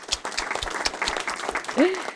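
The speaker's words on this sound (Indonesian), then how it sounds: "Tepuk tangan dulu dong buat Cap Willy" Brief scattered clapping in a podcast studio for a guest, light and close, with a voice speaking over and around it.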